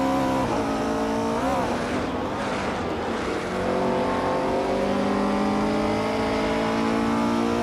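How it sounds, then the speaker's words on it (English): A 1970 Ford Mustang Boss 429 races in a driving game, its big V8 roaring loudly and continuously, shifting pitch as it revs up and down, with faint tire squeal and no voices. "Your Instinct is driving a 1970 Ford Mustang Boss 429, which is known for its big engine and muscle car attitude."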